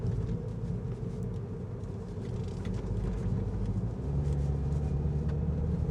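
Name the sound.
road noise from all-season tires inside MINI Cooper S cabin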